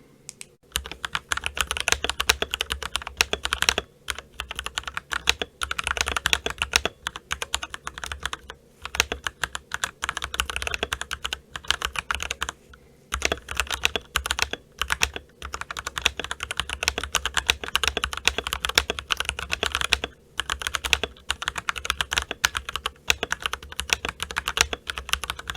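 Continuous typing on an RK98 100-key keyboard, a fast stream of close, crisp key clicks with brief pauses between bursts and no speech.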